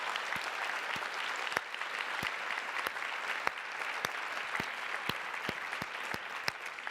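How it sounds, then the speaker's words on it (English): Conference audience applause, a fairly quiet wash of clapping in a large room with distinct individual claps popping out in an irregular rhythm. "let's just give them a big applause and a big extra thank you"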